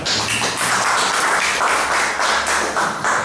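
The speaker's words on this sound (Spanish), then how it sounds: "un aplauso bien peruano" Audience applause at a book presentation in Peru: a loud, close round of many people clapping, slightly pulsing in rhythm and sustained throughout, with no one speaking over it.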